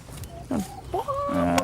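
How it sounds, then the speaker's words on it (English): A chicken in a garden gives several short clucks and drawn-out calls, close by, with faint background noise. "Come on, chicken!"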